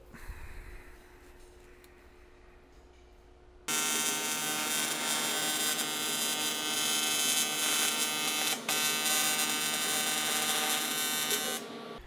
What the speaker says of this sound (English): tack that on and just confirm it before we go ahead and weld it up